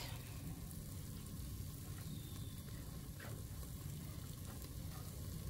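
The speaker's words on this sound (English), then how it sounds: "I'm just going to go ahead and sear them just so you kind of get that nice caramelized texture to them" Steak bites sear on a Blackstone griddle with a steady, faint, even sizzle that holds unbroken from start to finish, with no voices over it.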